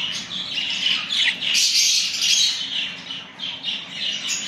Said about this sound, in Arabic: هاي طير كريم من قريب